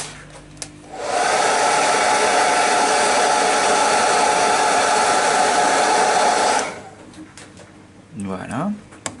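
A hair dryer dries paint on a model, blowing a loud, steady roar for about five seconds close by, switched on and off, with brief quiet handling sounds and a voice before and after.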